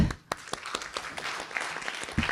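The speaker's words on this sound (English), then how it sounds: "Please welcome him and his wife Kitty with a big applause." Conference audience applauding a welcomed guest and his wife, a short burst of scattered claps at moderate distance, fairly faint and uneven.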